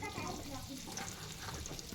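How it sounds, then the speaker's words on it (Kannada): Paneer masala frying in oil in a pan, giving a steady soft sizzle with stirring scrapes throughout, fairly quiet and continuous. "ಇವಾಗ ಚಲೋತ್ನಾಗಿ ಫ್ರೈ ಮಾಡ್ಕೊಳ್ಳೋಣ ರೀ ಇದನ್ನು"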